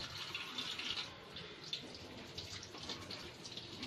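Tap water running steadily while cleaned fish are washed with turmeric powder, a soft continuous splashing flow heard close and alone.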